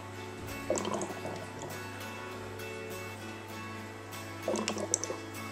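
Homebrewed Milestone IPA fermenting at 23 degrees bubbles through its airlock, giving two short, soft bursts of gurgling in a quiet room.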